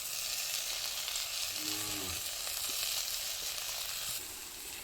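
Chopped tomato goes into a hot pan of sizzling onion and coconut for a village-style upma, bringing a steady loud hiss of frying with a brief stirring or clinking sound in the middle.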